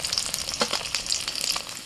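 Pieces of mrigal fish fry in hot oil, giving a loud, continuous crackling sizzle with rapid spattering pops up close.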